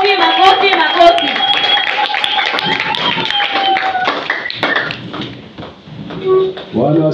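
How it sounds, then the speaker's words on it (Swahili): A church congregation claps hands along with a worship song, with a steady patter of handclaps beneath sustained singing and a leading voice, fairly close and loud throughout. "Piga tu makofi, makofi, makofi, makofi, makofi, makofi."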